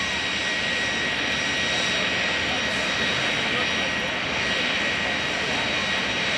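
KC-135R Stratotanker jet engines roar at the 2011 Boston Portsmouth airshow at Pease airport, a loud, steady, broadband rush that holds unbroken throughout.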